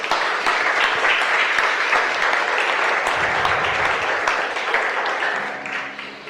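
Church congregation giving a long, loud round of applause during a sermon, dense continuous clapping that holds steady and eases slightly near the end, with no speech over it.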